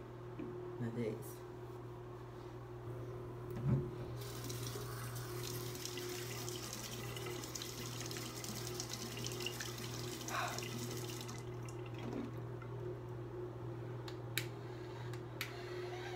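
Running water from a bathroom tap splashes steadily as it is used to dampen a face. Occasional louder splashes sit over a constant low hum.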